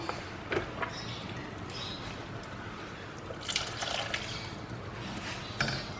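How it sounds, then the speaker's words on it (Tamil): Water pours into a cooking pot, trickling and splashing in a faint, irregular stream, with a few louder spatters, against a quiet background. "இப்போ வந்து நம்ம இதுக்கு தேவையான தண்ணி ஊற்றிடலாம்."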